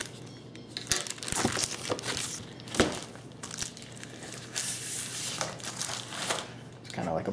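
An Endura FFG knife cuts through carrots with crisp, irregular crunching and crackling snaps, close by, in a loose rhythm of separate cuts and brief scraping.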